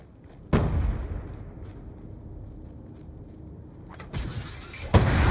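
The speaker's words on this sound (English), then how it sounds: "A little bit of explosion in the background for added effect" A sudden explosion bursts in the background of the Black Ops 2 game, followed by a rumbling tail and a second blast near the end, with no talk.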